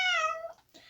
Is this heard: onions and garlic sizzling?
no